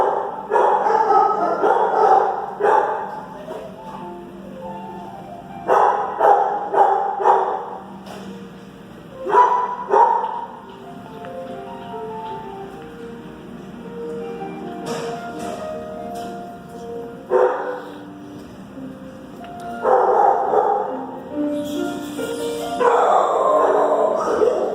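Several dogs in an animal shelter bark and yip in repeated loud bursts, with quieter gaps and whimpers between the volleys and a steady hum of the kennel room underneath.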